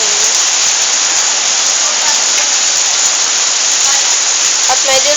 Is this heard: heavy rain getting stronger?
yes